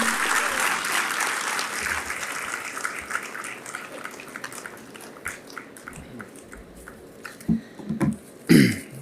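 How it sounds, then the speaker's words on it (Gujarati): Audience clapping in welcome for a speaker at a cultural event in Gandhinagar, a sustained burst of applause that gradually thins out, with a few louder close handling thumps and rustles near the end. "તાળીઓના ગડગડાટ સાથે આવકારીએ ડૉક્ટર નિમિત્ત ઓઝાને"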